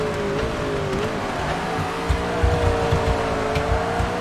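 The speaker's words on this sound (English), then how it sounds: "You can hear the tires squeal." Race car tires squealing through drifting corners in TOCA Race Driver 3, a sustained whining squeal riding over a loud steady engine drone with a few low thumps, no speech.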